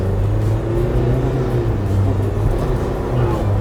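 A BAW 212 SUV accelerating hard in sport mode to chase another car, its engine drone steady and loud from inside the cabin, with a low rumble throughout and voices talking over it.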